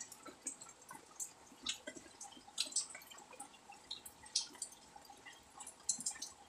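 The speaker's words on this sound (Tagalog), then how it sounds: "Maliit lang kasi yung dinadaanan ng tubig. Kaya mabagal mag-drain." Water from a bucket drains slowly through a narrow opening, giving a steady patter of small, close drips with an irregular rhythm over low background noise.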